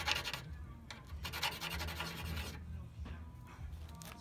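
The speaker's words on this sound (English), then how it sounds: "But what I like to do is give it a little rub." Rubbing the contact points of an old bulb in muscle car wiring to clean them: repeated soft, faint scrubbing strokes in an uneven rhythm, close up.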